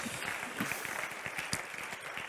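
A live audience at a cyber security summit session breaks into applause, scattered hand claps at a fairly low level, rough and uneven with a few sharper individual claps standing out.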